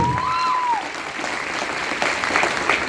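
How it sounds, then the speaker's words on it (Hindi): An audience gives the two mentors a round of applause: a steady, even wash of many hands clapping, with a rising whistle-like tone near the start. "इन दोनों सर के लिए एक बार जोरदार तालियां होनी चाहिए"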